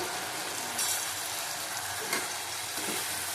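Catla fish curry sizzles steadily in a pan after a splash of water and Kashmiri chili powder, a close, even hiss of frying with no pauses and no one talking.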